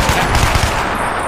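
Rapid bursts of automatic gunfire in a zombie video game rattle loudly and continuously, dense and close, with no voices.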